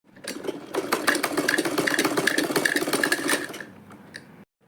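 A sewing machine runs a fast, steady line of stitches along a handbag belt for about three seconds, then slows and stops; no voices are heard.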